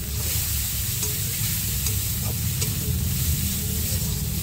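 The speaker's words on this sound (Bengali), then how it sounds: "আর এখানে আর দিচ্ছি হলুদ গুঁড়ো, আর দিয়ে ভালো করে মশলাটাকে আমি কষিয়ে নেব" Spice paste with turmeric for fish curry fries in hot oil as a loud, steady, close sizzle. A few faint stirring ticks sound under the constant hiss.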